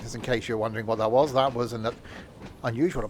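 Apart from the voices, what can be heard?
None of the usual background noises is heard.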